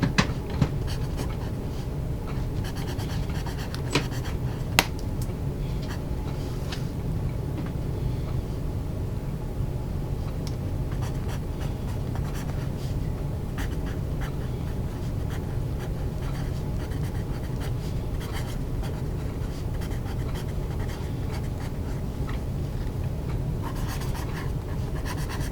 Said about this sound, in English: let me get my pad so we can do some writing with this K-Mart number 2 pencil